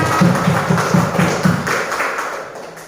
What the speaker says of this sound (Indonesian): Ayo kita beri tepuk tangan untuk kita.